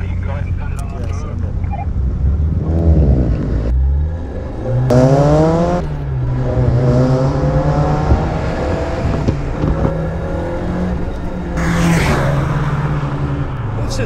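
A Lancia Futurista rally restomod accelerates hard with the throttle held flat on a tight, twisty California road, engine note climbing through gears in repeated rising sweeps, loud and close, with some wind buffeting and brief talk.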